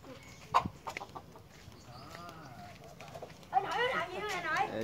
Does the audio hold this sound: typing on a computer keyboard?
no